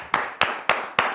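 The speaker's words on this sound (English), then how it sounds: "A round of applause." Four evenly spaced, sharp claps ring out close and clear, like a single person or small group clapping slowly on a children's educational TV show, with no talk.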